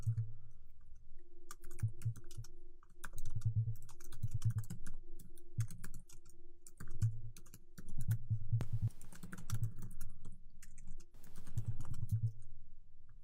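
Someone types on a computer keyboard while writing a Markdown file, giving irregular bursts of close, soft key clicks and taps over a low steady hum, with no talking.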